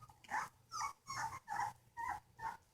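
American bulldog puppies growl and whimper while playing, in six short close bursts spaced about half a second apart.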